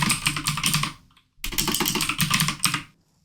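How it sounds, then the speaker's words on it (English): Fingers type quickly on a computer keyboard in two bursts of rapid, close clicking separated by a brief pause, with no voices. "here's where I'm going to bring over my keyboard"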